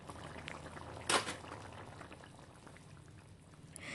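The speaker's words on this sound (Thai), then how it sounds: "พอให้แค่น้ำแกงกลับมาเดือดอีกหนึ่งรอบจากนั้นก็ปิดแก๊สได้เลยค่ะ" Thai southern-style coconut curry with sweet sea snails and wild betel leaves bubbling in a pot, a steady close simmer with a brief louder splash early on, no voices.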